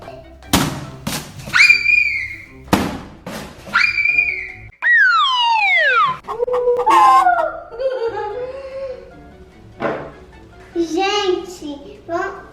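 Toy puppy giving out electronic barks and a whistling, howl-like sweep, in short bursts with gaps between them, close and loud, while someone talks around the sounds.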